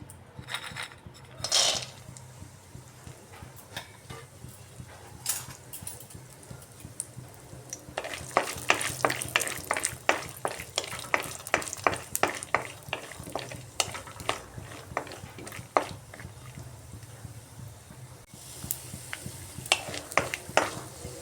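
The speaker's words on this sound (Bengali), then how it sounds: "বাদামগুলো ভেজে নিচ্ছি" Peanuts frying in mustard oil in a wok, a steady sizzle broken by sharp, rapid clinks and rattles of stirring that come in bursts, close and clear with no talk.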